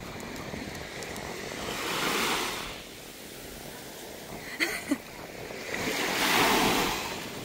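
Ocean waves on a beach in Crete roll in as a continuous rushing wash with two gentle swells, plus a couple of brief knocks in the middle and light wind noise.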